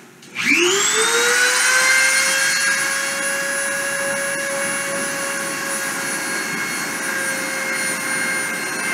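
A machine spindle spins up to 30,000 RPM for deposition, rising quickly into a loud, steady high-pitched whine with layered tones that holds constant to the end.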